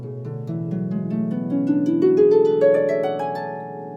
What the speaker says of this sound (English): We can play scales, and they sound like this.